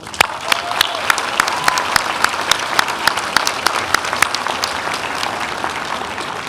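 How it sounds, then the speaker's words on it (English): A large crowd at a fall commencement ceremony gives a round of applause, dense sustained clapping with a few sharper individual claps standing out, filling the hall at a steady loud level throughout. "Please, can we give them one more round of applause?"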